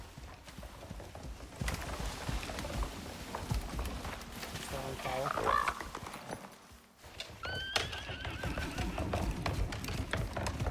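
Horse hooves clip-clop steadily along with occasional whinnies in the video game Icarus, heard beneath ongoing talk amid busy game-like ambience.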